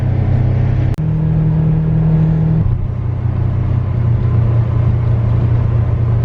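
A Polaris Ranger utility vehicle drives on a farm, its engine giving a steady, loud, close low rumble and drone throughout, with one brief sharp knock near the start and a slight shift in engine note partway through.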